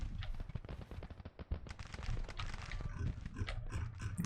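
12-pounder Napoleon artillery firing counter-battery in the Civil War strategy game Grand Tactician, a dense crackle of distant shots and booms with rolling low rumbles, faint and continuous.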